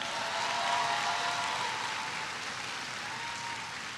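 Audience clapping at a new student induction ceremony, a steady broadband patter of applause sustained throughout, moderately distant and even in level with no talk over it.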